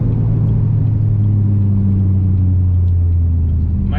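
A C7 Corvette Z06 with a new aftermarket exhaust rumbles loudly and steadily, a deep, droning exhaust note held close by for a few seconds without clear revving peaks.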